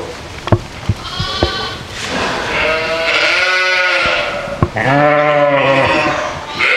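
Several lambs bleat loudly and close by, overlapping calls rising and falling, with a few short knocks in between.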